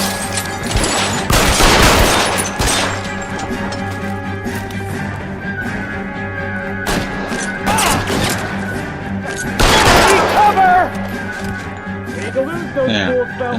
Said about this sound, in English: I'm fucking shooting all these people.